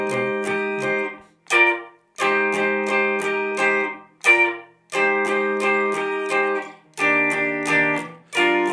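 An electric guitar plays the eight-bar progression of a song in rhythmic chord phrases with short gaps between them, loud and close with no talking.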